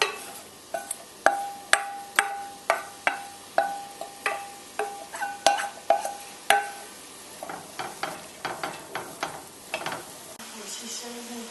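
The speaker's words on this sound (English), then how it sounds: "as soon as the oil heats up, then you throw in the onions until they're translucent" Onions frying in hot oil in a pan, with a soft sizzle under a brisk run of sharp scraping stirring strokes that repeat every half second or so, close and clear.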